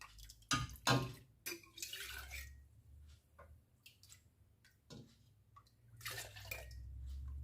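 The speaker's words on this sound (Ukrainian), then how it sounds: "чистенька баночка і наливаю." Homemade ryazhenka (baked fermented milk) pours into a clean jar in short bursts with splashes and trickles, close by and fairly quiet, with a few clinks and pauses between pours.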